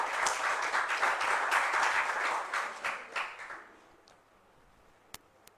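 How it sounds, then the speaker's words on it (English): A school audience at an inter-school contest breaks into dense clapping, which fades out after a few seconds, followed by a couple of stray claps. "So clap."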